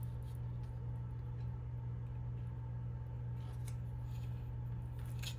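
Scissors cut paper for a junk journal, with a few faint, brief snips near the end over a low, steady background hum.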